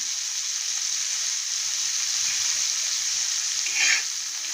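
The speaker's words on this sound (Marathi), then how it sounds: "आता ही भाजी टाकून घेऊ आपण आणि चवीनुसार मीठ टाकून परतून घेऊया" Steady, close sizzling and frying from a pan of tandli leafy greens stir-fried with salt, continuous throughout, with a brief louder scrape or stir near the end. No voices.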